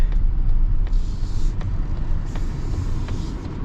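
Low engine rumble from inside a Mazda CX-70 with a turbocharged inline-six as it pulls forward, a steady cabin drone dominated by low-end hum.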